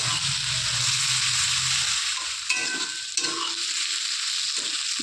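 A pan fries steadily for chicken rezala, giving a continuous close hiss of hot oil with a couple of brief utensil clicks as the contents are stirred, and no voices.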